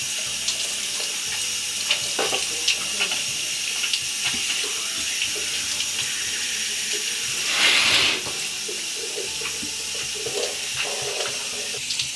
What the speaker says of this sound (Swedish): jag bestämde mig för att ta en liten dusch